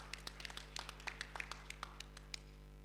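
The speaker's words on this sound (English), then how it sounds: "Please give a round of applause to Professor Parida" Sparse, scattered handclaps for a professor at an academic conference hall, a few people clapping unevenly and faintly over a steady electrical hum.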